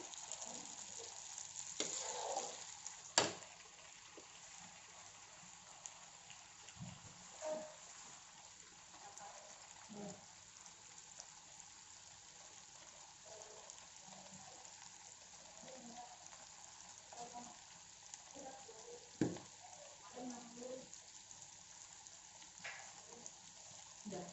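Onion frying in a pan for a baby squid dish, a faint steady sizzle with occasional sharper pops and stirring clatter, under soft background noise.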